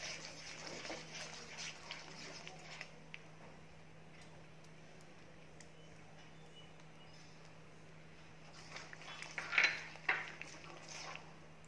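A spoon scraping and clinking against a pan while ghee Mysore pak mixture is stirred, faint soft scrapes throughout with a brighter cluster of clinks near the end, over a steady low hum.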